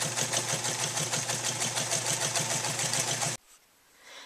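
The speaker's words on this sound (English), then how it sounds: "Now if you quilt this by hand, it actually looks a little bit prettier, but I'm doing it by machine because it's a little bit faster." A sewing machine quilting a pillow top runs steadily with a rapid, even mechanical whirr and needle rhythm, close and continuous, then stops abruptly near the end, leaving quiet room sound.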